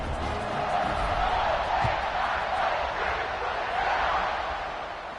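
A college football stadium crowd roars steadily before a kickoff, a loud and continuous wash of cheering that swells and eases with no break.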